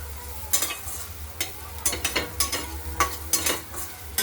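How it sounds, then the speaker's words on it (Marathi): Ground coconut spice paste sautéed with curry leaves in a pan for coconut chutney, soft sizzling under repeated scraping strokes of a spoon stirring against the pan, several uneven scrapes close by. "तयार केलेलं वाटण घालू वाटण मस्त परतून घेऊ"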